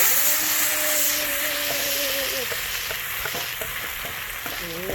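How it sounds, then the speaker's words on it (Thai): Red curry paste frying in hot oil in a pan while a Thai red curry stir-fry with crispy catfish is made, a steady broadband sizzle and crackle running throughout with a few stirring knocks and a brief voice-like tone early on. "พริกแกงกับน้ำมันคั่วมันเข้ากัน"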